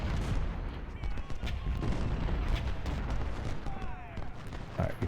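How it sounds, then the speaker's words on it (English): Cannon and artillery fire from the Ultimate General: Civil War strategy game, a steady dense battlefield rumble of repeated booms and distant volleys running continuously throughout. "The cannon fire is going to help us."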